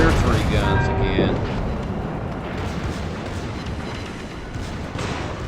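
Heavy battleship main guns firing in a naval combat video game with a German battleship, loud booming blasts rolling into a long rumbling roar that sustains across the whole stretch.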